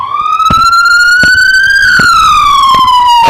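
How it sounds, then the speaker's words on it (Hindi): A loud siren wails close by at a cricket match, its tone slowly rising then falling, with regular heavy thumps beating underneath. "और साथ में सायरन भी बजता हुआ।"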